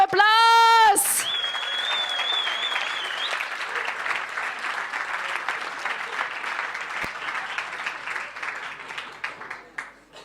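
Audience at a startup weekend final pitch event in Stuttgart bursts into loud, dense applause right after a brief voice, the clapping holding steady for several seconds before gradually thinning out.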